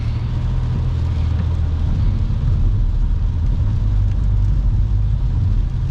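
Tires hiss through standing water on a rainy North American interstate at around 70, with a constant wash of spray and a deep road rumble heard from inside a car, with no talking.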